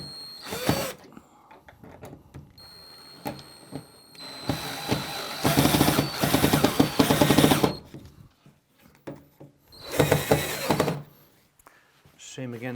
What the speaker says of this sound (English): take my 50mm screws and screw through the angle bracket into the raw plug that we put in earlier